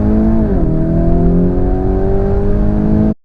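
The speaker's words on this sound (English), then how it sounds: "The noise from this, that is, a twin-turbo V8 petrol engine with 650 horsepower" A 2019 Lamborghini Urus with a 650-horsepower twin-turbo V8 petrol engine revving, a loud sustained throaty drone that steps in pitch early on and then holds steady before cutting off abruptly, with no talk.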